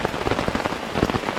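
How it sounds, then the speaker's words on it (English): Heavy rain pours down on a campsite canopy on the Appalachian Trail, a dense, steady patter with irregular louder drops smacking the fabric close by, no voices. "Pouring down rain."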